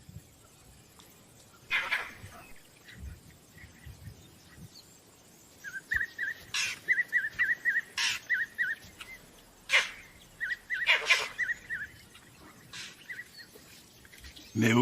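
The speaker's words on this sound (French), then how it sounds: "Un singe vert sonne l'alarme." Sharp, repeated alarm barks from a vervet monkey in the South African bush, coming in short clustered bursts, moderately distant, with quieter chirps and background wildlife between the calls.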